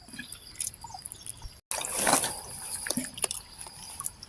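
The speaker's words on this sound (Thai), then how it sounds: "มาเทน้ำกันอีกครับ" Water pours out of a shrimp and fish trap after it has been pulled up, a close splashing trickle that starts abruptly after a brief gap and keeps dribbling unevenly.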